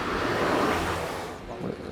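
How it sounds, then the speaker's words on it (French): A car passes on an outdoor film set: a broad, steady rush of motor and road noise that swells and then fades over about two seconds. "On laisse passer la voiture."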